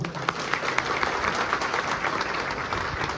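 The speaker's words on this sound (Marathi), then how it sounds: "नक्की जर जेवण आवडलं असेल तर त्यांच्यासाठी टाळ्या वाजवा" A restaurant crowd applauds the staff, steady dense clapping from many hands that holds at an even level throughout, with faint voices mixed in.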